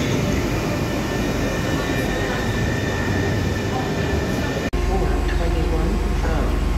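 A train rolls into Florence Santa Maria Novella station with a loud, continuous rumble of wheels and carriages, close by, broken by a brief dropout before the heavy low roar continues.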